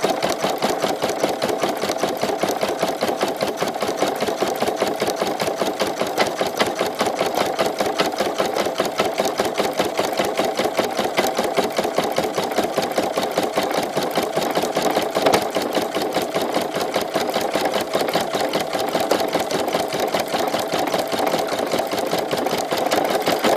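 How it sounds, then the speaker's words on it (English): An embroidery machine stitches a design with a steady, rapid, continuous needle clatter, close and loud, running without pause and with no voices. "show my mom how my embroidery machine works"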